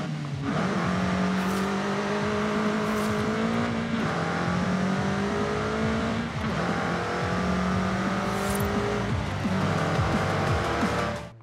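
Toyota Celica SS-I driven in Forza Horizon 5, engine revving loudly and steadily with repeated gear shifts and rising, falling pitch, tires squealing in places, no talk over it.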